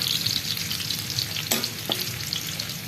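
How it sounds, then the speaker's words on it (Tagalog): Garlic sautéing in a hot pan gives a steady sizzle and fry, with two brief stirring scrapes partway through and no voices. "magigisa na tayo. Una natin yung ating bawang"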